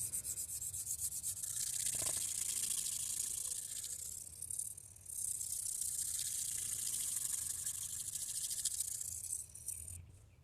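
A chipped Japanese kitchen knife is ground on a sharpening stone, giving a close, continuous raspy scraping in long strokes with a short pause midway.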